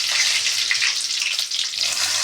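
Curry leaves hit hot oil while tempering khichdi, producing a bright, continuous crackling spatter that stays loud and close for the whole moment.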